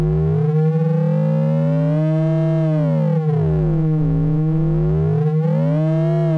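Ring-modulated sine tones from a Snazzy FX Dual Multiplier: one steady carrier tone drones while paired sideband tones sweep up and down in mirrored arcs, giving a loud, warbling, siren-like electronic sound with no voices.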